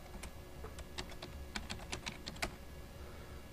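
Keys clatter on a computer keyboard in a quick, irregular burst of close, crisp taps, fading into quiet near the end, with no voices.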